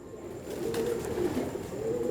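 Pet Kamgar pigeons coo softly in low, rolling murmurs, close by and steady, with no talk over them.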